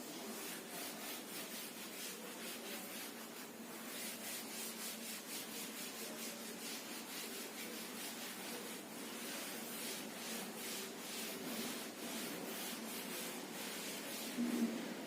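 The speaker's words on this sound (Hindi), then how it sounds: "इसको मैं रब कर दे रहा हूं।" Steady rubbing as writing is erased from a board during a physics lesson, a continuous close scratchy swishing with a faint back-and-forth rhythm, alone with no talk.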